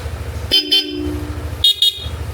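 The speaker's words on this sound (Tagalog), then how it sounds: "Busina niya yung Bosch Europa with selector" Two pairs of short, bright double honks from a Bosch Europa horn fitted to a Yamaha Aerox V3 scooter, sounding loud and close over a low idling engine rumble.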